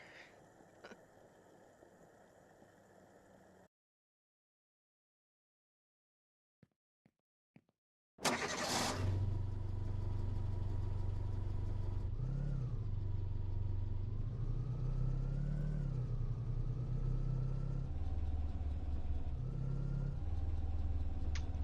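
A muscle car engine in a video game turns over after a few seconds of silence, then settles into a steady, loud, close drone with small revs rising and falling, no talking.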